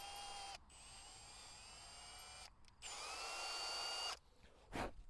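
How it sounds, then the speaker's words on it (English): A power drill tapping threads in metal holes on a log splitter whines at a steady high pitch, stopping and restarting a few times in short bursts, close by with no talking. "I like doing it with a drill, it's pretty quick."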